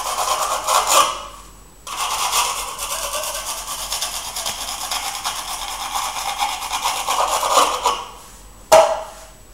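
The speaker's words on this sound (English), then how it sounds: "Using a steel trowel, finally finish the surface" A steel trowel finishing the top surface of a fresh concrete cube level with its mold, heard as steady close rasping scrapes in long strokes with brief pauses between passes.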